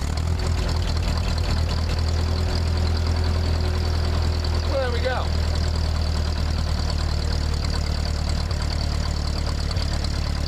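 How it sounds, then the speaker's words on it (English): The engine of an old Ford 8N tractor runs and idles in a steady, loud, low rumble that holds for the whole stretch. Someone speaks briefly over it. "She's a good running old tractor. Still running"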